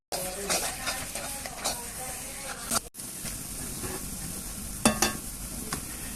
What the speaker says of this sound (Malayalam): എന്നിട്ട് നന്നായിട്ട് ഇതുപോലെ ഒന്ന് വഴറ്റിയെടുക്കണം